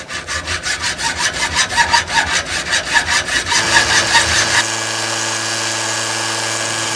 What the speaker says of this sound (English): you're going to cut off the 1/2 inch section with your hacksaw